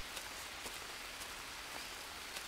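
Rain falling in a jungle in the video game Green Hell, a soft, steady patter of drops with occasional brief splashes, faint and continuous with no talk.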